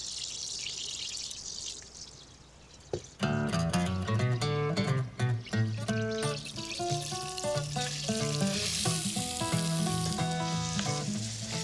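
Onion, garlic and ginger hit hot olive oil in a pan, a sudden loud sizzle after a quiet start, then continuous crackling frying close up with no talk.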